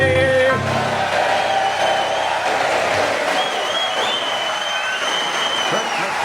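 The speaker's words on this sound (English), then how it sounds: "You even clap along aggressively" A studio audience at a comedy panel show claps along in a steady, dense wash of hands that runs the whole way through at an even, fairly loud level.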